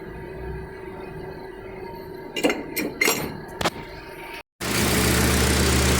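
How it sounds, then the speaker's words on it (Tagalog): Hyundai Sonata engine with a broken engine mount, a steady idle hum broken by several sharp metallic knocks and clunks in the middle, then a louder broadband rush toward the end. "Pag nagba-vibrate yung makina na ganun na style na vibration, dito lang pala ang problema, yung sa engine mounting."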